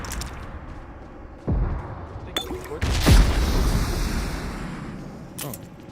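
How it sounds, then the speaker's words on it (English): RPG rocket explosions in the PUBG Mobile battle game land as several heavy booms and thuds, the largest hitting hard near the middle, with a sharp crack later and rumbling decay between blasts. "Who's shooting with the RPG?"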